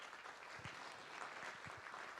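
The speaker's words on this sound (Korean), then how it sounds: "큰 박수로 축하해 주시기 바랍니다." Audience applause fills a hall at a university award ceremony during a staff worship service, a steady, faint wash of many hands clapping throughout.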